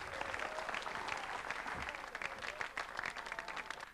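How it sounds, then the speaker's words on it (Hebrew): Audience applause at a live stage show welcoming a singer, dense steady clapping from a sizable crowd filling the whole clip, loud and close with no talk over it. "לתת הרבה מחיאות כפיים לזמר שאנחנו רוצים להציג בפניכם"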